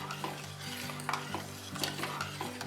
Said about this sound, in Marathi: फक्त एक दोन मिनटं उकळी आल्यानंतर आपल्याला ते ढवळून घ्यायचं आहे